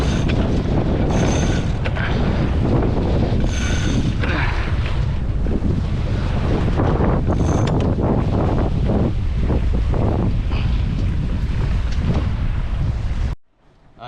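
Strong, steady wind roars and buffets the microphone while a small sailboat heads through open water near Tahiti in French Polynesia, with loud sustained gusts and water rushing beneath, cutting off abruptly at the end.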